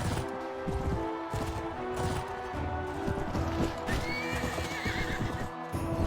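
Horses neigh and hooves clatter in a busy Mount & Blade Warband battle, with a loud whinny rising over continuous galloping clip-clop and combat noise throughout.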